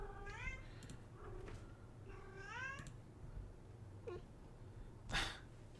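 A house cat meows indoors, two drawn-out rising meows followed by a short chirp and a sharp burst, faint and near against a low background hum.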